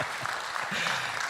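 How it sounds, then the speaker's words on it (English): Applause from the audience at an industry health, safety and environment forum, a steady, moderately quiet wash of many hands clapping with faint voices mixed in. "A round of applause for him."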